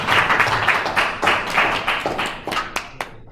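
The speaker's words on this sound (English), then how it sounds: "Can I get a round of applause for that?" Audience applause at a university engineering crash course on solids, a short burst of close, uneven clapping from a modest group that thins out toward the end.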